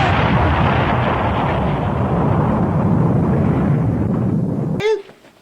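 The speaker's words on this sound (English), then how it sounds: "Now let's take a look at the explosion itself." A cartoon explosion from Transformers Headmasters, a loud sustained roaring blast of dense noise that cuts off abruptly near the end, followed by a brief sweeping tone.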